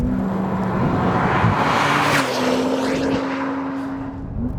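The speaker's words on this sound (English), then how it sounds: "You can hear the turbo spooling up when you get on it" A Porsche 911 Turbo accelerating hard out of a corner, its engine drone rising under a broad rushing whoosh of air and turbo, loud and close from inside, with a shift-like break midway.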